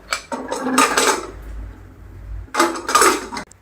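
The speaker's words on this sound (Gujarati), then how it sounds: "હવે આપણે કુકર બંધ કરી દેવાનું છે" A pressure cooker lid being closed in a village kitchen while cooking seasoned rice, heard as two separate bursts of metallic clanking and scraping, fairly close, with a quiet gap between them.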